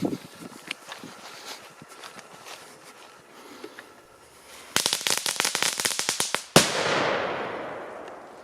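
Tytan Blitz 5 and Krakling firecrackers go off outdoors: a rapid crackling string of sharp pops, then one loud bang with a long fading echo, after quieter scattered crackles.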